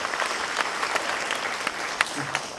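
Audience applause at the SPA Bhopal convocation for Master of Planning degree recipients: steady, dense clapping from a large seated crowd throughout, fairly even in level with a few sharper claps standing out.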